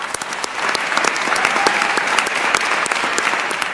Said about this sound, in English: look at the applause she's getting